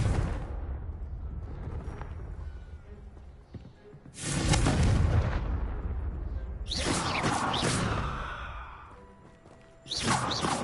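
In Hogwarts Legacy, a Confringo blasting spell explodes in several loud, broad bursts separated by quieter rumbling gaps, with the last blast hitting near the end.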